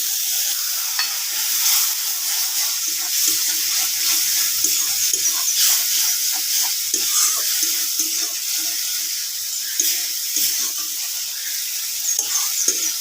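Water is splashed into powdered spices frying in a pan for a soybean dhokar dalna, setting off a loud, continuous hissing sizzle. Light scraping of stirring sounds underneath, and no one speaks.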